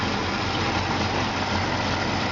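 A 1954 Chevy 3100 pickup engine fitted with a Monojet carburetor idles quietly and steadily, a low even rumble with a soft airy intake hiss running through it, close by and with no voices.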